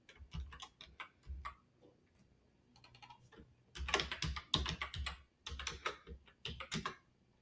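Computer keyboard typing as an email address and password are entered to sign in, with bursts of quick clicking keystrokes separated by short pauses, close and fairly quiet, with no talking.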